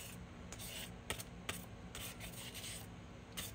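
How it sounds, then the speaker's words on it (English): Quick light sanding to scuff the surface and bottom of a tumbler before epoxy, heard as close, soft rubbing strokes with a few sharper scrapes, no talking. "just get a nice little quick sand there, scuff"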